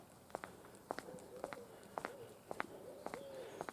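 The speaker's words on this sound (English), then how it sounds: "the birds are singing" Birds calling in the quiet early morning at sunrise in the Cuckmere Valley, a series of short bright chirps and a few whistled notes repeating every half second or so at moderate distance, with faint footsteps underneath.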